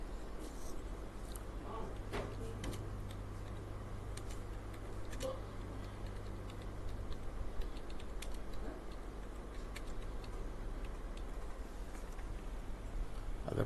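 Someone types an accident description on a computer keyboard, with quiet irregular key taps and clicks scattered through a steady low background hum.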